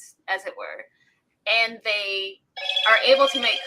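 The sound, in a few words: mobile phone ringing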